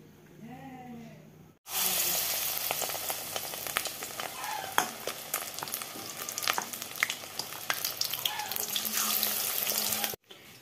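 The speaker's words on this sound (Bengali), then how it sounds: "আর এখানে মিষ্টি কুমড়া ফুলের বড়া হচ্ছে।" Pumpkin flower fritters frying in a pan, a continuous loud sizzle with crackling pops and spits that starts suddenly and runs for about eight seconds before cutting off, with no speech.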